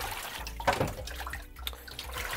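Clean water runs steadily from a tap while developed film is given a thorough wash in a home darkroom, a continuous splashing rush heard up close.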